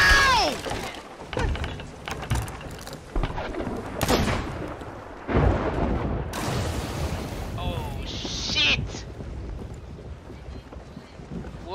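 Cannons fire during a naval fight in the pirate game Sea of Thieves, several loud booms and blasts mixed with wind, creaking and splashing, while players talk and shout excitedly throughout.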